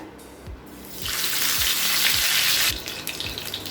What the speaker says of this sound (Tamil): இப்போ தோசைக்கல்லில் தேவையான அளவு எண்ணெய், கொஞ்சம் கருவேப்பிலை,